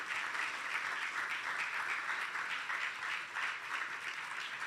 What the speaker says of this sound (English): Let's applaud her again as she comes to the stage